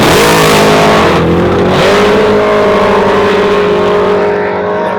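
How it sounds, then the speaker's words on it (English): Street cars launching in a drag race, one pulling a wheel stand, engines roaring loud and close as they accelerate hard down the strip, steady revving tone rising over about five seconds with no voices. "Huckstep trying to hold it in control, but Mike Ratliff drives around him on the top end and takes the win"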